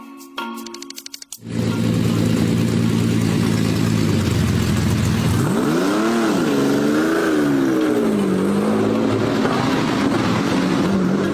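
A Lamborghini Countach, the Italian mid-engined sports car, revs loudly after a brief opening clatter. The engine climbs and falls in pitch through several sustained surges, close and continuous with no talk.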